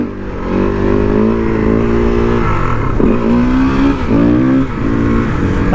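Husqvarna SMR 510 motorcycle accelerating hard in first gear for a wheelie: loud, close engine revving that climbs steadily, dips at about three seconds and again near four, then climbs and falls once more, with no talk.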